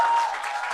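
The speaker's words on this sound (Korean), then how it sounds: "박수가 그쳐야 강의 시작하는데" Audience clapping at the start of a lecture, a dense continuous patter of many hands, fairly close and steady, easing slightly toward the end.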